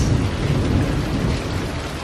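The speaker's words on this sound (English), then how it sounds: "Did you hear that thunder?" Thunder rumbling through a heavy downpour: dense, steady rain hissing on surfaces with a low, rolling rumble underneath, loud and continuous with no voices.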